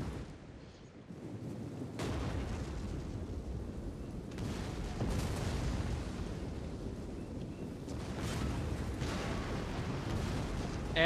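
Explosions and artillery fire from the ancient-Rome strategy game Rome II rumble as a dense, continuous roar, with several sharp booming onsets standing out from the din.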